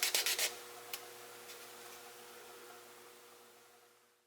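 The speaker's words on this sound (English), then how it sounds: "Followed by a quick rub with a smooth, abrasive pad" A microchip scrubbed with a smooth abrasive pad, a few quick close scratchy strokes at the start, then a couple of faint light rubs fading into a quiet hum.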